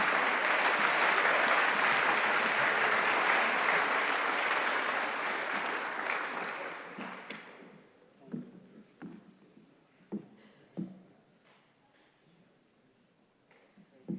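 An audience at a DePauw Athletics Hall of Fame ceremony applauding the 1983-1984 men's basketball team, loud sustained clapping that fades out after about seven seconds, followed by a few scattered claps and thumps in a quieter hall.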